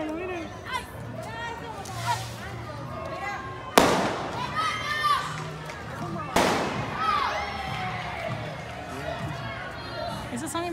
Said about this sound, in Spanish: Esos son fuegos artificiales, caballero, que la gente inventa aquí